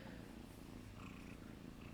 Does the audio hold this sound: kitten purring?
yes